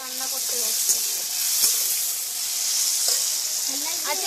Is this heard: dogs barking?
no